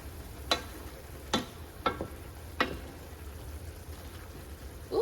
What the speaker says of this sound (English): so this has been cooking for a little bit. I'm gonna go ahead and just stir it a little bit